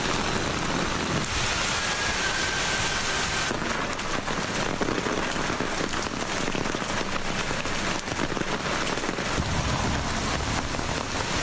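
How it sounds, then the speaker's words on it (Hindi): Torrential monsoon rain pours steadily on Lahore streets, flooding them into standing water; a dense, loud, unbroken rush of downpour hitting surfaces without a pause. "मूसलाधार बारिश ने लाहौर की सड़कें तालाब बना दी"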